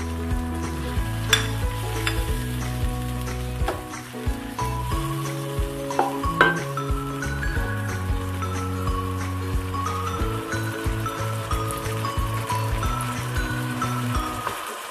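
Ginger garlic paste sizzles and fries in an onion-tomato masala for baingan bharta, with a continuous loud crackle and spatter as a spoon stirs and scrapes the pan now and then.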